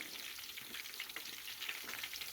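Chicken pieces frying in hot oil, a continuous fine crackling sizzle with scattered pops, quiet and steady with no talk.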